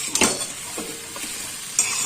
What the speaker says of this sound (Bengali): এবার ভালো করে সব মশলা মিশিয়ে নিয়ে